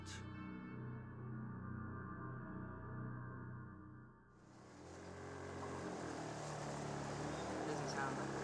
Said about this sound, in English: Less than a mile upriver, the outboard engine falters.